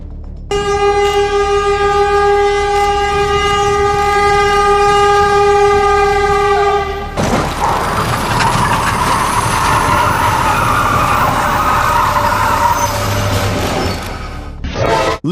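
A train horn blares loudly at a level crossing in a long sustained blast for about seven seconds, then a train rushes past close by with rumbling, clattering wheels.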